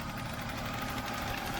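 A BMW E36 engine idling steadily after a throttle cable adjustment, a continuous low, even rumble with faint mechanical ticking, close and unbroken for the whole stretch with no talk.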